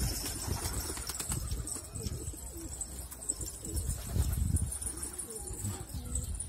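Pigeons coo in low, throaty murmurs close by, with bursts of wing flapping as birds take off and land, while a person talks intermittently over the birds.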